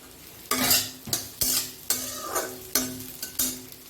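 Ground mustard paste fries in a pan for a fish curry, giving repeated bursts of sizzling as a utensil stirs it, about seven strokes in a loose rhythm, close and clear with no talking.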